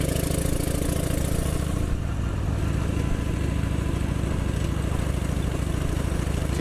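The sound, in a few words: motorcycle engine while riding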